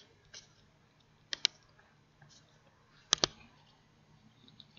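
A computer mouse clicks while customer records are worked on in QuickBooks Online accounting software, giving a few quiet, sharp clicks, a pair near the start and another pair later, against a soft room hiss.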